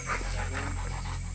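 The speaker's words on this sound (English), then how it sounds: "A bomb-sniffing Labrador they took from the army and renamed Coronel." A bomb-sniffing army Labrador pants softly in quick, even breaths, close by, over a steady background hum.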